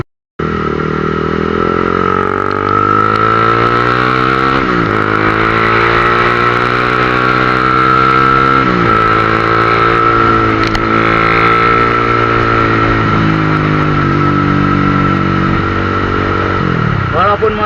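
Honda CBR 150 motorcycle engine revving and accelerating up through the gears, loud and close, with repeated rising pitch sweeps and brief dips at each shift, steady throughout.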